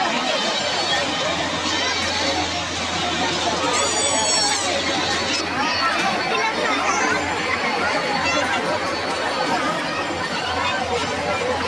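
Dense crowd hubbub at a Navratri fair in CBD Belapur, Navi Mumbai, with steady overlapping chatter and babble filling the whole stretch, a fairground bustle near a toy stall and train ride, with a brief high whistling tone early on.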